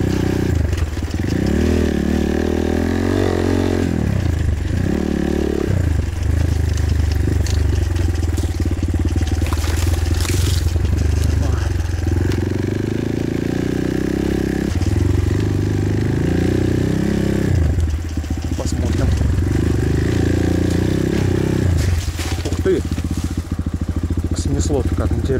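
A Kayo T4 enduro motorcycle engine drones and shifts pitch as it revs and slows with engine braking, with clattering and scraping over rough ground and occasional voices in the background.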